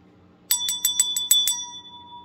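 A person vocally imitates a notification bell: about seven quick bright dings in a fast row, the last tone ringing out and fading, loud and close with nothing else around it.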